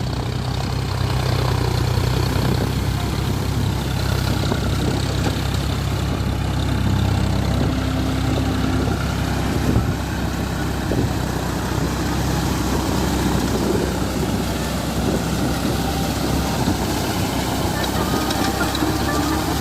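A John Deere 42hp tractor working a rotavator in a flooded paddy field, its diesel engine droning steadily and loud throughout with a low rumbling churn.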